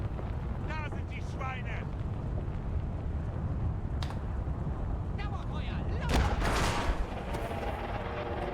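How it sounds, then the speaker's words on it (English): Machine gun fire and heavy battle noise in the WWII strategy game Call to Arms: Gates of Hell, Eastern Front battle between Soviet and German forces, a dense rumble of shots and blasts under someone talking throughout. "it's a machine gun"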